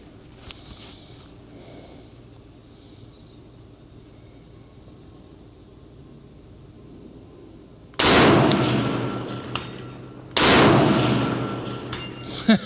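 Two loud, sharp rifle shots from a 6mm ARC rifle, fired close by about two seconds apart, each with a broad blast and a trailing echo, following a quiet stretch of faint outdoor background.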